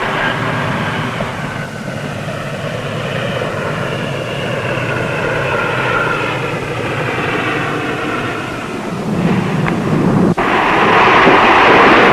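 A fixed-wing aircraft lands on an Antarctic skiway, its engines droning loudly and steadily with a rising roar near the end as the plane comes close, with no voices heard.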